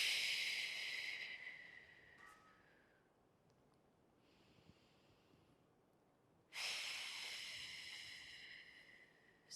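Breathing during a banded row exercise: a strong breathy exhale at the start, a quiet stretch, then another loud, close breath near the end, with no talk.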